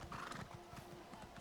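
A horse in a video game clip-clops along steadily with a brief neigh over it, close and full, in a short burst with no talk.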